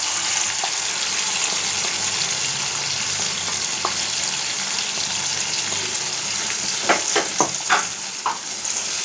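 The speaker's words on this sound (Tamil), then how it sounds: "இப்போது இந்த அரைச்ச மசாலாவை போட்டுக்கலாம்." Ground ginger-garlic masala with cinnamon, cloves and cardamom fries in a pan, giving a steady, loud, hissing sizzle throughout, with a few brief scraping stirs toward the end and no talk.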